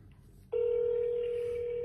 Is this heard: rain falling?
no